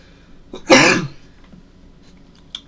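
A single short, sharp cough bursts out near the mic, followed by quiet and a faint click.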